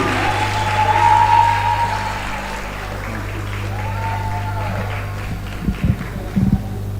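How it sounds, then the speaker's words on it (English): An audience claps for an inductee at a food science and technology induction ceremony, with steady applause over a low hum and a few sharper claps near the end. "Clap for him."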